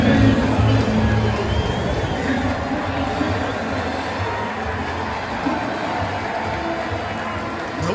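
A baseball stadium crowd gives a standing ovation to returning reliever Jose Alvarado, a dense, steady roar of cheering and babble filling the whole stretch at constant loudness.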